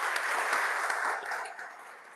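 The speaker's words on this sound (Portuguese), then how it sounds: "Queria que você recebesse eles com a salva de palmas" Church congregation applauding to welcome pastors Wendel and Luana at their installation service, a dense clapping wash that gradually thins and fades over two seconds.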